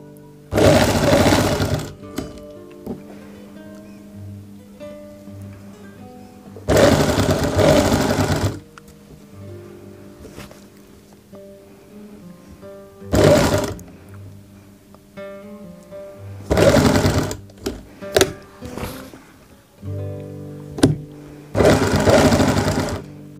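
Several separate bursts of fast, loud sewing machine whirring as a loop on a kurti neckline is stitched, each run lasting a second or two, with quiet gaps and a few short taps between them.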